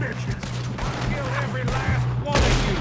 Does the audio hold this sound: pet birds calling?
no